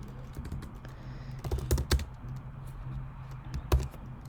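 Computer keyboard keys clack in quick irregular bursts while code is typed, close and fairly quiet, with short pauses between runs of keystrokes.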